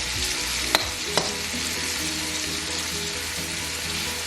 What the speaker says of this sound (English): Just gonna let it fry up on both sides.